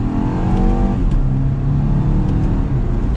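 A 2022 BMW X2 sDrive28i in sport mode revs up on a downshift, its engine note climbing and sweeping through gears, loud and close from inside the cabin.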